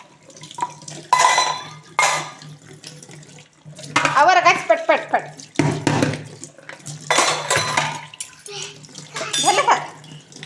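A child washes dishes and pans, including a flat griddle, at a kitchen sink. Running tap water, clinking metal and scrubbing come in close bursts while people talk.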